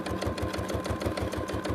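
A long-arm quilting machine stitches fabric with a fast, steady mechanical rhythm of evenly spaced thumps over a continuous motor whir, loud and close.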